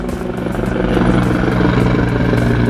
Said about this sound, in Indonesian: karena ada helikopter nih sedang melintas ya